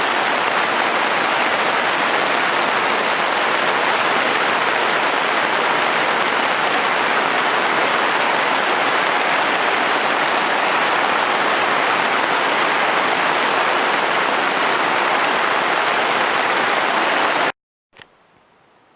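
Steady, dense rain drums on a cheap tarp overhead, loud and close, with an even hiss lasting throughout before it cuts off abruptly near the end.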